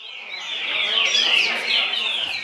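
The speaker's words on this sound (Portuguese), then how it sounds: "Este coleiro, chamado Chaveco, ganhou na sua roda" A coleiro (Sporophila) songbird at a singing contest pours out a continuous, rapid, high warbling song, close and fairly loud, swelling slightly through the middle.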